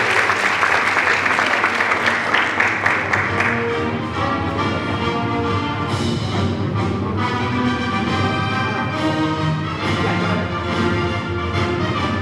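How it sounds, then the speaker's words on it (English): An audience at a drama workshop performance gives lively, sustained applause welcoming the actors, loud rapid clapping for a few seconds that then settles under music and chatter. "While we're applauding, let's just give a big welcome to our actors"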